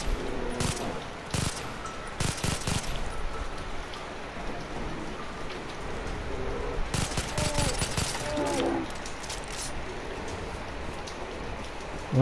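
Rapid bursts of gunfire from the video game Far Cry 3 crackle in clusters over a constant noisy background, some volleys dense like automatic fire.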